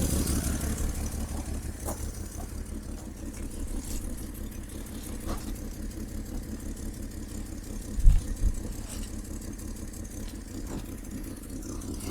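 An old Rambler car engine that sat unused for 30 years runs at a steady, rough idle close by, with a brief knock or clunk partway through and no talk over it.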